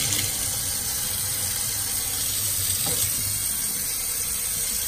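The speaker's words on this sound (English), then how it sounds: "Water's coming out." Water runs steadily from a newly installed Glacier Bay kitchen faucet, a close, continuous hiss that fills the whole stretch without pause and with no voices over it.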